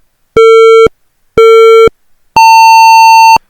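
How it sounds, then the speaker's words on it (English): A student-made racing video game sounds its start-race signal: two short identical electronic beeps followed by a longer, higher-pitched tone, loud, clean and alone. "so on that beep, players will start racing"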